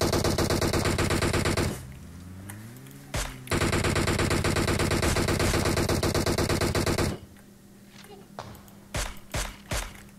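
Gunfire from PUBG Mobile fills the scene as sustained, rapid automatic bursts, loud and close, breaking off into a few scattered single shots near the end, with people talking over it.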